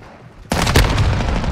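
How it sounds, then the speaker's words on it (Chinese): A landmine goes off in Call of Duty: Modern Warfare II (2022). After a quiet start, one sudden, loud, close blast hits and then rumbles and crackles on at high level until the end. "他刚好射到我的地雷，他在射我的地雷，就我滑过去，搞被我自己炸死"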